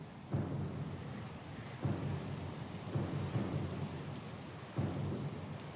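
A storm in Pillars of Eternity 2: Deadfire: steady, heavy rain hisses throughout while several low thunder rumbles swell at intervals, with no voices.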